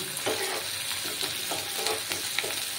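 Two medium-sized sliced onions frying in oil with whole cumin, a steady close sizzle with regular stirring strokes scraping through it every half second or so.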